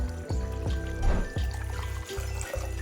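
Cognac poured from a bottle into a cocktail shaker, with several short glugging pulses of liquid close by in a quiet room.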